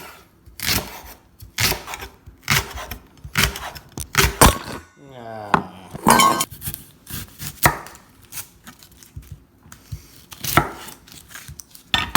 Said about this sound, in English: So, quickly cut up the rest of the vegetables and everything.